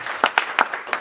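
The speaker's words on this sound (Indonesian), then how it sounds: "Yuk kita berikan tepuk tangan dulu bagi Yesus Kristus" Applause breaks out among a church congregation during a revival service, bursts of clapping rising and falling in short uneven waves over about a second.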